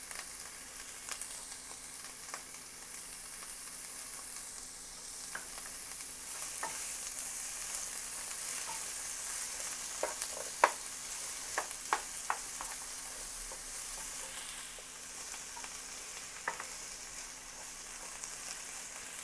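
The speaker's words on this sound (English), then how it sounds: "I'm going to go ahead and add the onions immediately so that we can start the sauteing process" Onions sauté in oil in a pan over high heat for Yemeni beef with gravy, giving a long, quiet, even hiss with occasional light spatula clicks.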